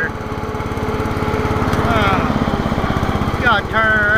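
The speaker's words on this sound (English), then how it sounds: "So we're getting a lawnmower rolling" A fast riding lawn mower engine drives along with a loud, close, steady buzzing drone that rises slightly as it accelerates, with a brief shift near the end and no talk over it.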